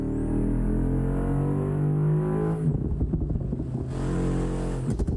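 A rear-wheel-drive car in a racing sim game revs hard, its engine tone climbing and then breaking into rapid gear-change bursts and choppy throttle blips, loud and alone without talk.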